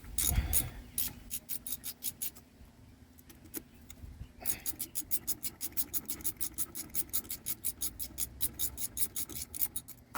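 Ratchet loosening the brake caliper bolts on a 2009 Lincoln MKX, heard up close as fast, even clicking strokes that pause briefly and then resume in a long, steady run.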